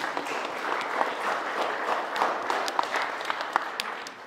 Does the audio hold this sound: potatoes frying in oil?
no